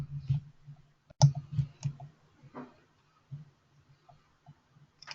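Sharp, isolated mouse clicks in statistics software, a few quick ones close together and then sparser single clicks against a quiet background with no talk.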